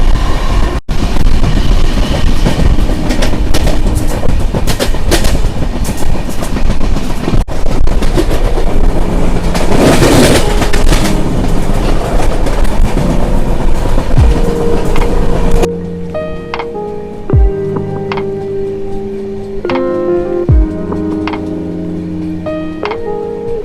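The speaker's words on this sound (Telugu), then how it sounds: "ప్యాసింజర్ ట్రైన్ అయితే మనైతే ఓవర్టేక్ చేస్తున్నాం" Jan Shatabdi Express train running at speed, with a loud, dense roar of wheels and rail noise and some clacking. The roar drops abruptly to a quieter interior sound with sharp ticks and tones, no voices.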